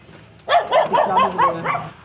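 Dog barking near a tractor in a rural work setting: a quick burst of about five close, loud, hoarse barks in a row after a brief quiet start.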